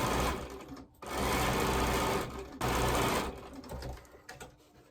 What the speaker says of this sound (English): Now I'm going to sew this onto the white center strip.